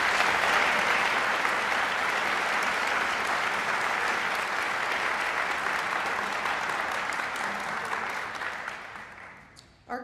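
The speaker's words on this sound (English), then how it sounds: "So let's give a round of applause for those people." A large crowd at a college of architecture graduation ceremony claps in a loud, sustained wash of applause that holds steady for several seconds before thinning and fading near the end.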